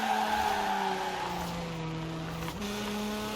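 A stanced Infiniti Q50 in Forza Horizon 4 held high in the revs as it tries to slide sideways, the engine droning steadily with a slight pitch dip, tires hissing faintly beneath, close and continuous with no talking.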